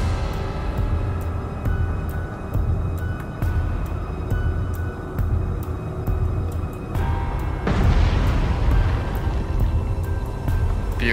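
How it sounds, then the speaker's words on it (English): A loud explosion booms in the submarine game Cold Waters, a sudden broadband burst rising over a steady low machinery hum with faint periodic ticks. "Loud explosion."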